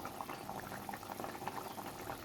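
A pot of katla fish curry broth with potato and pointed gourd boils steadily, a continuous close bubbling simmer with no voices.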